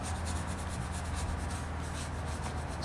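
A brush scrubbing paint onto window glass, blending in yellow and white, makes a steady, continuous close rubbing sound with a fast repetitive texture and no pauses.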